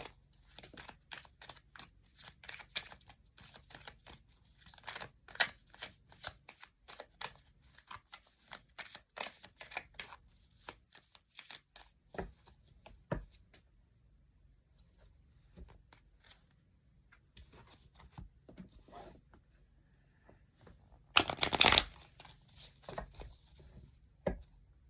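Tarot cards with fantasy castle imagery are shuffled quietly by hand in a series of soft riffles and taps, close and faint, with a louder burst of shuffling near the end.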